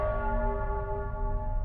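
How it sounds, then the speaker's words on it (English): Church bells ring in the video game Nostradamus The Last Prophecy, a sustained resonant bell tone with layered harmonics holding steady and fairly soft. "The bells!"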